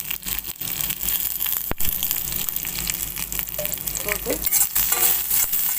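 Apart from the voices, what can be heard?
sautéing elephant yam with turmeric and asafoetida in pan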